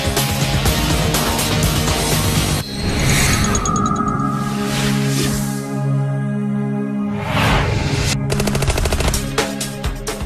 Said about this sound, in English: The submachine gun completely changed close-range combat.